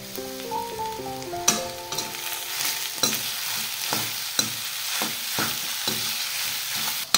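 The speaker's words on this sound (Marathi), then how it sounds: "कोथिंबीर टाकून हलवून घेऊ" Potato chutney being stirred in a pan after coriander is added, a soft sizzle under repeated scraping strokes of a spoon at a steady pace, close by; a brief tonal musical sting sounds at the start.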